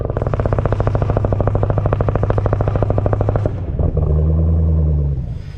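Dodge Hellcat on 2-step launch control holding around 1200 RPM, a loud rapid machine-gun string of exhaust pops and bangs over engine roar for about three seconds, then the engine settles into a lower steady drone.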